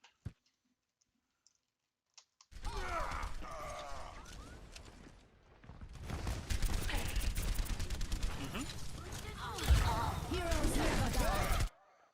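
Rapid gunfire from the Soldier hero in a video game, dense bursts of shots with clicking between them, heard in two long sustained volleys after a quiet start.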